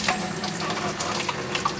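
Water runs steadily from a tap as cups are filled for newly hatched baby snakes, a continuous close splashing hiss with no talking.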